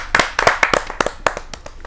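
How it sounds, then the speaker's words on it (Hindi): Loud, close clapping from a small audience at a Hindi poetry gathering greets an invited poet, with sharp separate handclaps in quick irregular bursts over a short stretch. "जहाँ जोरदार ताली बरसाएं"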